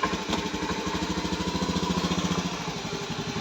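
A Honda Beat FI scooter engine, about seven years old and just repaired, runs steadily at idle with a rapid, even putter, close and loud without any talk.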